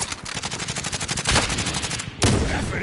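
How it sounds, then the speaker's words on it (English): Rapid automatic gunfire from a Modern Warfare Warzone match, dense bursts running almost continuously and loudly, with a sharper heavy shot near the end. "They're both shooting at me."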